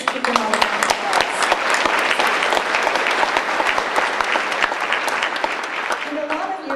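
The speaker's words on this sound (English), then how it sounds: "let's just give them all a round of applause" A dinner crowd at the 2010 "We Are Wylie" event breaks into loud, sustained applause, dense crisp clapping close and steady for nearly seven seconds, tapering slightly at the end with a few voices mixed in.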